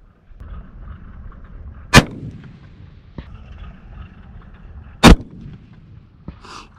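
Two sharp, booming rifle shots fired at an antelope on open Wyoming ground at about 670 yards, each a loud, close crack with a rolling tail, spaced about three seconds apart, followed by fainter clicks of the rifle.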